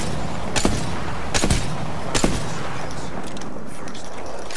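Gunfire in the battle royale shooter Apex Legends, with three sharp, evenly spaced shots cracking over a steady bed of background game noise.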